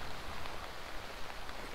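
Rain falling in the Arma 3 video game, a dense, steady hiss of drops on surfaces, heard alone without any voices.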